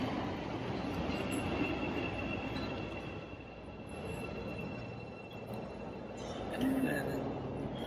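A passing train rumbles steadily with wheel and rail noise, a brief metallic squeal rising near the end, heard from nearby on the way to work with a person talking over it.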